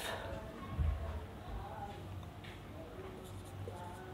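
Chalk or marker scratching out an example on a classroom board in short strokes and taps, faint and close, with quiet room noise between strokes and no talking.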